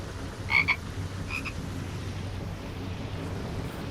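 A frog croaking in the Skyrim VR video game, two short pairs of calls early on over a steady bed of wind and water ambience.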